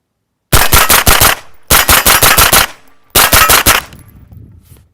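Three loud bursts of rapid gunfire from a CMMG Banshee 9mm firing cheap Tula steel-core ammunition, each string of about five or six shots, with short pauses and ringing decay between, no voices.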